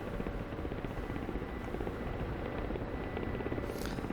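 A Ka-50 attack helicopter in the DCS flight simulator making a pass over an airfield, its rotor and engine drone steady and moderately loud throughout, with a brief higher whine near the end.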